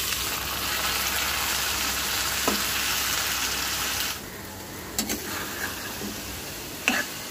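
Red amaranth greens with garlic in hot mustard oil make a loud, steady sizzle that drops sharply about halfway, followed by a few separate crackles and spatters.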